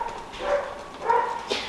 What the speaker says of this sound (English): There's some really unhappy dogs this morning.